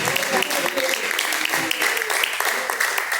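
A congregation claps continuously during a lively Pentecostal church service, the brisk, steady clapping mixed with voices and shouting.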